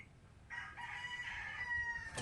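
A rooster crows and chickens cluck close by while dried palay rice grain is spread out to dry on a farm, the crow rising strongly after a quiet start and holding to the end.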